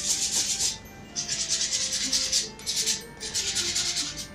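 Rhythmic rasping strokes of 120-grit sandpaper rubbing along an MDF edge, three long passes with brief pauses between, close and steady.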